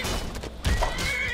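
A horse in the video game Skyrim gives a loud, close, shrill whinny with breathy snorting, and a faint clip-clop of hooves sounds underneath.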